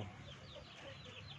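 Backyard chickens clucking softly and steadily at mid distance, a low continuous murmur of fowl calls with no one talking.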